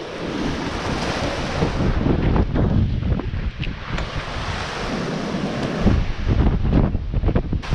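Strong 30-knot wind roars across a sailboat on the open sea during an Atlantic crossing, buffeting the microphone loudly, with waves surging beneath in a constant rushing wash.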